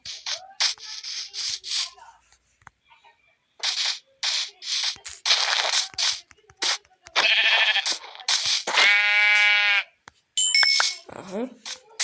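Sheep bleats from the video game Minecraft come in short bursts, including a drawn-out wavering bleat, alongside rubbing and scraping game sounds with pauses of near silence between them.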